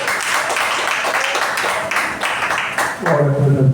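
A church congregation claps together during a family worship service, a dense, continuous patter of hands over music and singing.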